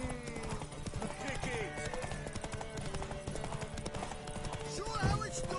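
A horse gallops in The Witcher 3 video game, rapid rhythmic hoofbeats drumming steadily throughout, close and prominent, mixed with game sound effects and characters talking over it.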